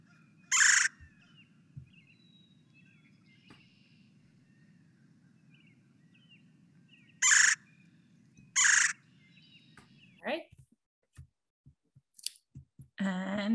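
A red-bellied woodpecker gives a few loud, harsh rolling calls, three separate bursts spaced seconds apart, followed by a scatter of short chips and clicks over a faint low background rumble.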